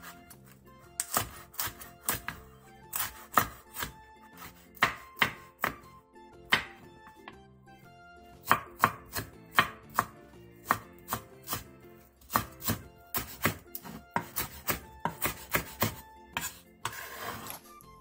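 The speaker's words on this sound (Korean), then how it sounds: "양파 4분의 1개를 채 썰고 청양고추 2개, 홍고추 1개, 대파 2분의 1개는 어슷썰기 해주세요." Knife chopping onion, green and red chili peppers and green onion on a cutting board for Korean soup, with bursts of quick, crisp, close taps alternating with short pauses and no talking.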